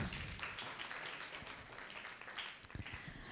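A conference audience gives a faint, distant round of applause for panel guests, a continuous soft patter of many hands with a few sharper claps standing out near the end.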